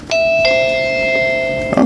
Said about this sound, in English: so you get a chime